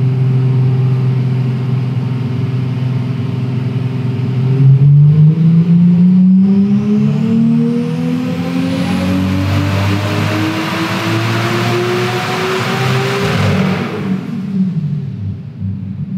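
A VW Golf engine revs hard on a hub dynamometer, its loud steady drone climbing in pitch over about ten seconds, holding near the top, then dropping off sharply as the throttle closes.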